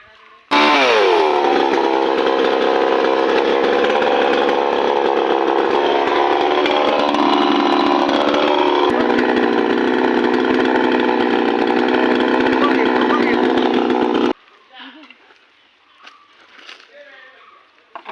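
A chainsaw cuts down a coconut tree, its loud steady engine whine running for about fourteen seconds with pitch shifts as the blade bites, then cutting off to quiet outdoor sounds.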